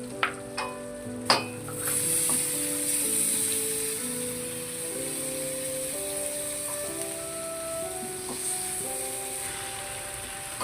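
Cut goat meat tipped into onions frying in oil, with a few sharp clatters at the start followed by a steady moderate sizzle and occasional stirring scrapes, no voices.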